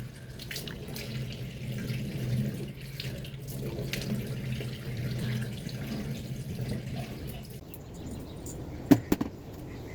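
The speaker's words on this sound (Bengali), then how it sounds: "মুখ ধুয়ে নিচ্ছি।" A tap runs steadily into a sink while someone washes their face, a constant close splashing stream with a couple of sharp drips or knocks near the end, no talking.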